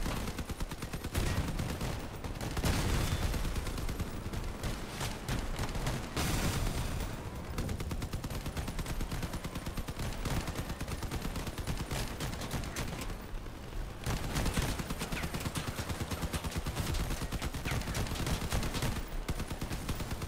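Continuous gunfire in the video game Crossout: dense, rapid bursts of shots and cannon fire that run almost without pause, fairly quiet in level and with no talking over them.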